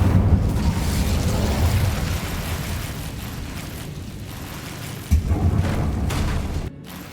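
Incendio fire spell cast in Hogwarts Legacy, a dense, roaring whoosh of flame with a low rumbling body that holds steady for several seconds, swells again briefly, then cuts off.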